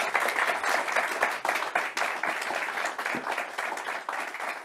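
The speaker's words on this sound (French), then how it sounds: "je pense qu'on peut applaudir Pierre Moscovici" Sustained audience applause at a political club gathering with Pierre Moscovici as guest, a dense, steady patter of many hands clapping throughout, fairly loud and close, with no speech over it.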